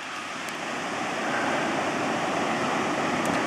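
A river rushes by outdoors in a steady, dense wash of flowing water that stays constant and fairly close throughout, with no talking over it.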